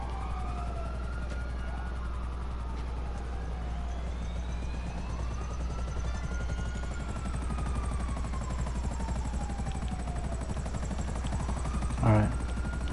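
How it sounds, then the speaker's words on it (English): Helicopter in GTA hovering on a rooftop, a steady low rotor drone running throughout with overlapping siren-like wails sweeping up and down, ending in a brief rattling burst near the end. "we have a chopper up on the roof."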